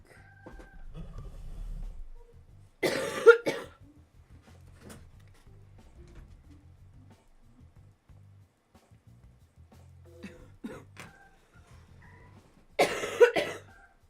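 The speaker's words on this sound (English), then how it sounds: "Because I can't stop coughing." Two harsh coughing fits, one early and one near the end, separated by a long stretch of quiet low hum.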